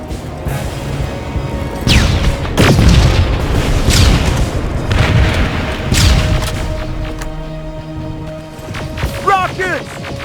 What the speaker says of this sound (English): Rockets! They're heading this way!